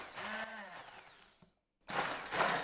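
An electric mixer whirs through thick lemon cream, winding down from a high motor whine, stopping briefly in silence, then starting again with a close, buzzing run.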